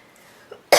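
A pregnant woman coughs once, a sudden loud burst at the very end after near-silence and a faint small throat sound just before it.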